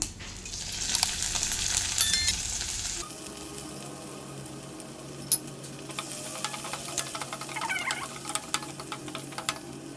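Chopped onions dropped into hot oil with cumin and mustard seeds for a Telugu-style healthy pasta, giving a loud burst of sizzling at first that settles into a steady, fainter frying hiss with small clinks.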